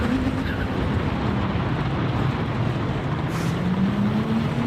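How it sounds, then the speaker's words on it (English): A car engine roars steadily in Gran Turismo 7, with a rising supercharger whine running beneath the dense, continuous drone, close and loud with no talking. "Did you hear that? That's a supercharger."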